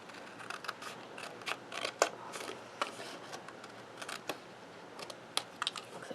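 Scissors snip card stock up to a score line for a shutter card, a run of sharp, crisp cuts at an uneven pace, close and fairly quiet with no talking.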